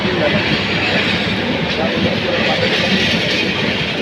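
The Rangpur Express passes through Tongi junction with a loud, steady rumble and rattle of rolling wagons, close by and continuous throughout.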